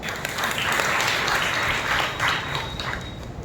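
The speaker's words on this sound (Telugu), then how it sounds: "ఇశ్రాయేలు జనులందరూ బిగ్గరగా చప్పట్లు కొట్టి ప్రభువును మహిమపరచండి" A church congregation gathered for evening worship claps loudly together, a dense, steady burst of many hands with no talk over it.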